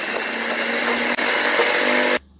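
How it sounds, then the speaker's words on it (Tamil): A kitchen blender grinds a masala mixture for bread rolls, a loud steady whir that runs for about two seconds with one brief dip, then cuts off abruptly. "So we're going to blend this together now."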